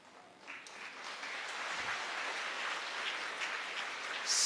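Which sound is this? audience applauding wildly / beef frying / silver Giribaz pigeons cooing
audience applauding wildly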